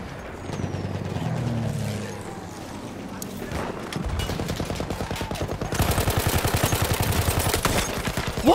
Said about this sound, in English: I was shooting at him a long time!